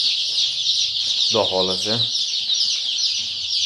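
Andijan black chickens and chicks clucking in a brief burst amid steady high chick peeping, with someone speaking briefly nearby.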